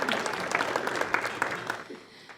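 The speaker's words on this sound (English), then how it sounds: "Round of applause." Audience applause at a community campfire kickoff event honoring a childhood cancer podcast host, a brief burst of steady, moderately loud clapping that tapers off toward the end.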